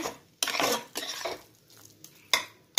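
Long beans being stirred with garam masala in a pan, several loud scraping strokes of a metal spoon against the pan in quick bursts, close up, over a faint sizzle.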